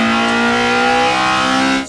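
A Honda VTEC engine holds a high, steady rev with a strong whining tone, loud and close, before easing off at the very end.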